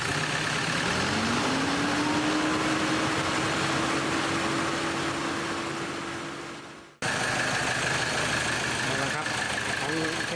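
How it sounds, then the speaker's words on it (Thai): A car engine revs up and settles into a steady higher hum, drops out abruptly for a moment, then continues droning loudly. "เร่งเครื่องครับ"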